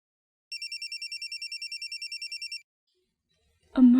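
An electronic telephone ringtone trills in a steady rapid warble for about two seconds, clear and alone against silence, followed later by a brief burst of voice.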